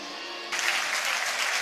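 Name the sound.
stadium crowd applauding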